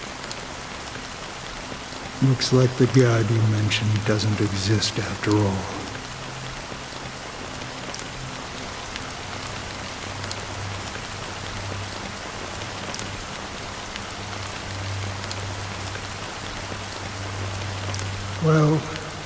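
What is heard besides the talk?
rain falling, from video game Penacony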